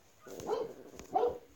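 Two household dogs bark indoors in a pair of distinct, moderately loud barks about three-quarters of a second apart, somewhat distant and muffled.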